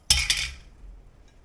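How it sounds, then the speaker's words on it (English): A spoon clinks twice against a pot while stirring red currants for jelly, two bright metallic taps close together, then near silence. "Give her a stir."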